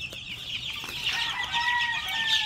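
One-month-old Boston chickens, white and black, cluck and cheep in a coop, a steady chorus of high calls close by with no talking.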